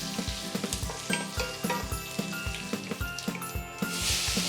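Two dried red chillies and curry leaves sauté in hot oil with asafoetida in a pan, giving a close, steady sizzle with regular scraping stirs and a brighter crackle near the end.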